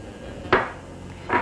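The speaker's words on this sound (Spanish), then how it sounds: "Vamos a revolver un poquito." A spoon stirring flour and Maicena-brand cornstarch in a bowl gives two brief, separate clinks against the bowl, close by and about a second apart, over quiet room noise.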